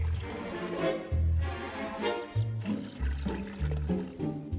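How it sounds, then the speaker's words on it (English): Hydrogen peroxide poured over liver fizzes and bubbles into foam, heard as a steady, close, watery gurgling and rushing with uneven surges and no talking. "So we create a load of gas inside the liquids, and we should get a foam."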